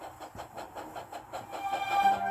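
Thomas the steam engine chuffs softly along the track in a steady, rhythmic puffing, fairly quiet and close, with faint whistle-like tones toward the end.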